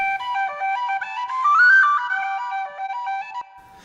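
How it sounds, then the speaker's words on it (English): A soloed whistle track plays alone in a Reaper mix, a clear melodic tune of stepped sustained notes rising to a bright peak midway, steady and fairly loud with no voices. "Now I'm going to solo the whistle to listen to it by itself."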